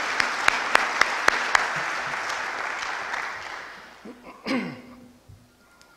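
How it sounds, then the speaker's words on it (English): An audience at a club induction ceremony breaks into hearty applause for the inductees, a few sharp claps ringing out first, then the clapping fading to scattered claps and quiet room murmur. "Round of applause for them, please"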